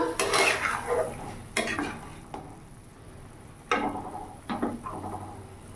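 A metal lid comes off a pot of boiling vegetable soup with a few sharp clanks and clatters, some close and loud and others lighter, with no talking.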